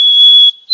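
A white-throated sparrow gives a single clear, pure whistled note, loud and steady for half a second. A second whistle begins just as the short clip ends.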